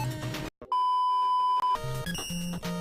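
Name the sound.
phone going off in the background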